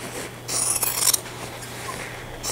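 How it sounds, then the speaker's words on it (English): Scissors cutting straight down through one layer of fabric to open a zipper slot for a lined sling bag, a close rasping snip with a burst of blade-on-cloth scraping, then quieter rubbing and another cut near the end. "And cut it straight down the middle."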